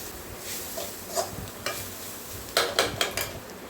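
Coconut, roasted gram and dried chilli are sautéed and stirred in a pan for a vegetable egg kurma, giving soft scraping and faint sizzling with a cluster of sharper utensil knocks near the end; no talk.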